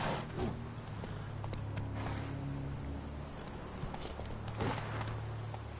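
Hooves of a horse clip-clopping at a walk in The Witcher 3, a steady run of soft, close hoofbeats over continuous outdoor ambience with no talk.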